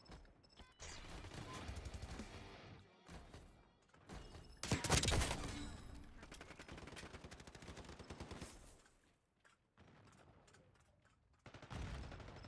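Rapid, loud gunfire from a Black Ops 6 multiplayer match, with bursts and sustained automatic fire stacking densely across most of the stretch, a short lull near the end before more shots resume.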